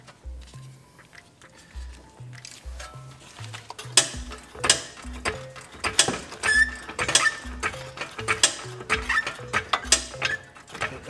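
A ratchet loosens a bolt on a rear-wheel-drive BMW F30 340i during an H&R Super Sport spring install, giving close, rapid bursts of metallic clicking in uneven runs that grow denser and louder toward the end.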